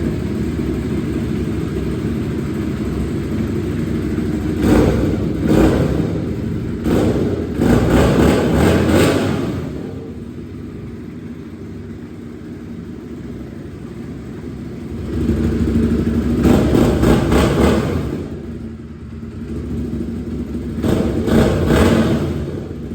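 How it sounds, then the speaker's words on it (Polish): Aprilia Dorsoduro 750 Carbon 2012 motorcycle with stock factory exhaust, idling steadily and then blipped through several loud rev bursts in two clusters, each rising sharply and settling back to a rumbling idle, with no talk. "Dorsoduro ma to do siebie, że naprawdę ładnie pracuje i nawet mimo fabrycznego wydechu"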